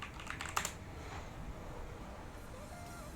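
Quick keystrokes on a computer keyboard at a Google search, a short burst of soft close clicks near the start, then fainter tapping over a low background hum.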